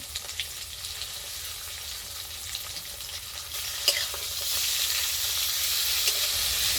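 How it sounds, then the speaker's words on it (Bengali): Boiled flat beans fry with cashew and poppy seed paste in oil tempered with nigella seeds and green chilli, giving a soft, steady sizzle with light stirring scrapes and one brief clink midway. "এবার সিদ্ধ করে রাখা সিমগুলো দিয়ে দেবো কাজু আর পোস্ত বাটাটা দিয়ে দেবো"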